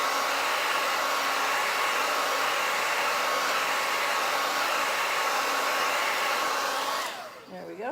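A hair dryer set to warm blows over wet chalk paste, giving a steady close whoosh of air that runs alone and then cuts off near the end.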